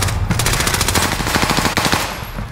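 Rapid automatic gunfire in Call of Duty: Modern Warfare, a sustained burst of closely spaced loud shots lasting over two seconds, close and dominant with no speech.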